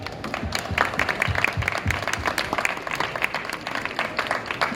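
An audience of readers at a magazine presentation at a fair claps with dense, steady applause for about five seconds, with a faint hint of voices underneath.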